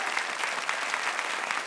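A studio audience on a French talk show claps in a brief, steady burst of applause, fairly close and even from start to finish.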